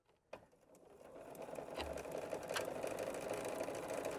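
Sewing machine stitching quilt blocks for a star quilt made from flying geese units, starting after a click and running as a steady, close mechanical whir that builds up and continues to the end.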